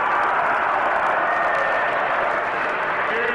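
Audience at a solemn session in San Isidro honoring the centenary of Fernando Belaúnde Terry breaks into sustained applause, a dense, steady wash of clapping that holds loud and even throughout.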